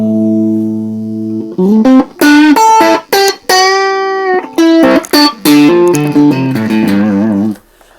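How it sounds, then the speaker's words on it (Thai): A held distorted chord gives way to a run of picked notes and chords, all driven into natural overdrive by a Fender Japan guitar amp with its volume turned fully up. Loud and continuous, it ends with a short fade. "มันจะได้เสียงแตกธรรมชาติแบบนี้ครับ"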